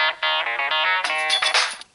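A bright electronic melody plays from a Microsoft Lumia 640 phone as a short series of tones, loud and close, ending abruptly after a couple of seconds.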